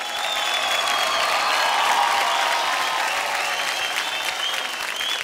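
Studio audience applause on a TV dance competition show, a dense, steady wash of clapping with some cheering that stays loud and close for the whole stretch.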